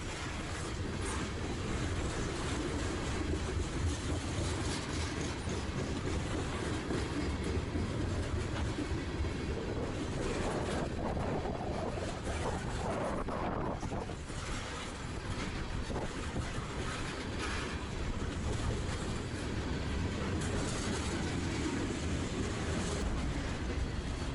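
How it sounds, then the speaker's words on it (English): A freight train with auto racks at the rear rolls steadily past, a continuous loud rumble of wheels and cars with faint clickety-clack, steady throughout with no voices. "Auto racks bring up the rear of this train."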